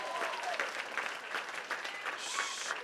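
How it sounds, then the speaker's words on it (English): An audience at a lower school event called Lovestock 2022 applauds in a steady, continuous wash of clapping that holds at moderate loudness from start to finish. "can we please also give a round of applause to Miss Horner"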